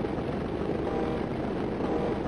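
Steady propeller-plane engine drone from the flight game Stunt Island, a continuous broadband roar holding an even, fairly loud level throughout with no pauses or voices.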